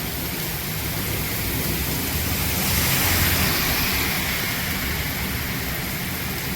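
Torrential downpour with water running and flowing, a dense, steady roar of heavy rain that swells slightly midway and continues unbroken throughout, with no voices.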